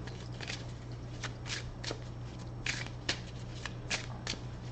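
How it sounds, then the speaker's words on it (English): Tarot cards are shuffled against a low steady hum, with soft, scattered flicks and slides of the deck that stay fairly quiet and close, and no talking. "I'm going to pull one of these past life cards"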